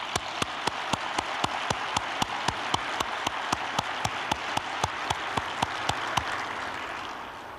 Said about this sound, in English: Please send your thunderous applause to our international trade professionals today.